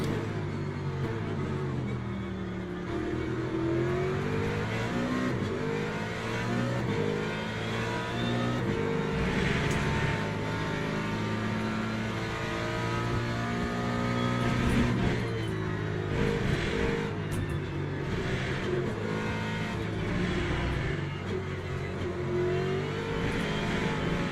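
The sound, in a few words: Le Mans hypercar (LMP) race cars passing, from a video game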